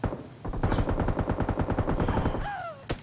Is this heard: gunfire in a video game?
yes